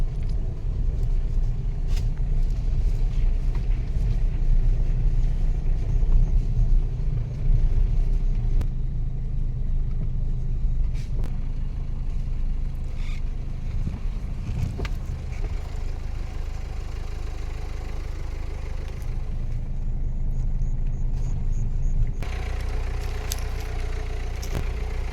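A car creeping down a steep hillside track in rural Madhya Pradesh, its engine a steady low rumble and idle throughout, with occasional clicks and knocks, close and continuous with no talk.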